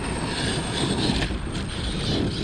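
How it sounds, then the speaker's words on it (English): An airplane passes overhead near a construction site, a loud, steady engine roar with a broad rushing drone that holds level for the whole stretch, no talking. "Airplane,"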